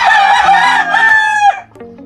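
A backyard gamefowl rooster crows once, loud and close: a bright, strained call lasting about a second and a half that drops off sharply at the end, with faint low clucking underneath.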